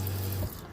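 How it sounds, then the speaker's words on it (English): Water runs from a DC water pump into a small sink inside a camper van, a steady close hiss of flow that cuts off about halfway through, with no talking. "The sink, we've got water pump, DC. So I have running water when I want it."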